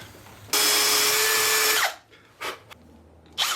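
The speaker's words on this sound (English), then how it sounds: "Put a couple of big lag screws through as well into the cross beam" A power drill drives big lag screws into a wooden cross beam of a mailbox post, one loud steady whirring run of over a second that stops abruptly, followed by a few short clunks and scrapes.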